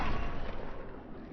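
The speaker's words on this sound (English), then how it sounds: "like this headshot, right?" A gunshot headshot in the zombie shooter Zombie Army 4 booms out as a single loud, dense blast that rumbles on for about a second with no voices.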